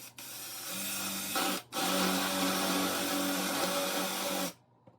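Drill bit boring a hole during bearing work on a Dobsonian telescope, a loud, steady whirring grind that runs continuously for several seconds with one brief pause, up close.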